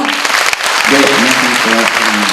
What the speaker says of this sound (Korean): 차정민 선임 입학 사정관님을 박수로 맞이해주세요